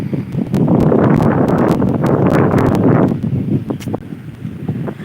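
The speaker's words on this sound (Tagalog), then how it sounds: "Kaya maganda ang hangin." Strong wind blows at the seaside near big trees, roaring loudly against the microphone for about three seconds before easing into a softer, gusty rush.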